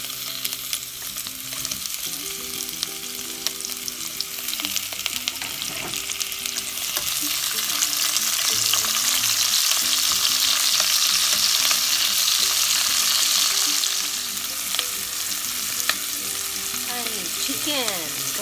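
Chopped onions frying in a hot pan for a cream stew, a continuous bright sizzle with occasional clinks and scraping from stirring, swelling louder midway and then settling.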